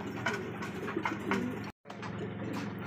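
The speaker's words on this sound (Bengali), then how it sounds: "আরেকজন ড্যানিশ কবুতর, পাকিস্তানি ব্লাড লাইনে বলতে একদমই কিন্তু টপ কোয়ালিটি" A Danish pigeon of Pakistani bloodline coos steadily at close range, soft repeated throaty calls running throughout with a brief silent gap partway.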